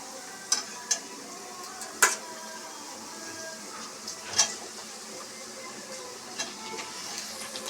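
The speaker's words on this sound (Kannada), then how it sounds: "ಟೊಮೊಟೊ ಚೆನ್ನಾಗಿ ಫ್ರೈ ಮಾಡು" Onions and tomatoes fry for chicken biryani with a faint, low sizzle, marked by a few scattered clicks of a spoon stirring in the pan.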